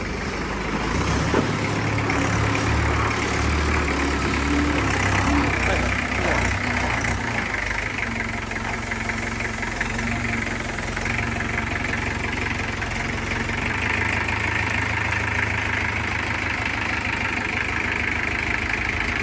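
A tractor engine idles low and steady throughout with a constant rumble and faint knocking, while people talk nearby over it.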